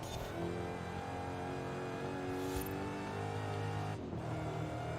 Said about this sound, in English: I do love the sound of a good supercharger